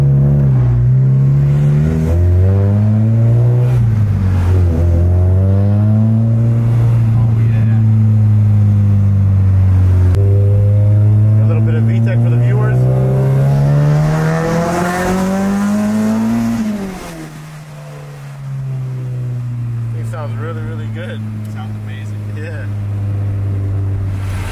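A Honda Civic Si with a B18C engine revving, loud rising and falling engine tone held at high revs, then dropping off, with people talking over it.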